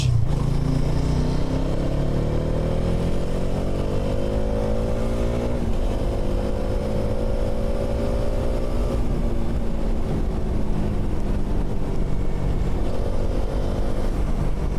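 A motorcycle engine revs and drones continuously, pitch rising and falling with gear shifts, loud and close, riding along a road in Kolkata at night.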